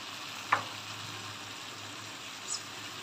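Meat stock (yakhni) is poured into a pot of simmering meat, giving a soft, steady sizzle and bubble that holds at a low level, broken by a couple of faint clinks.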